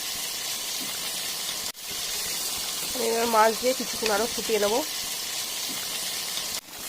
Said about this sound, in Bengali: এবার মাছ দিয়ে কিছুক্ষণ আরও ফুটিয়ে নেবো।